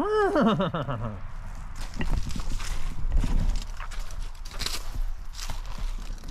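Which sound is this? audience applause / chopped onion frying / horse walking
horse walking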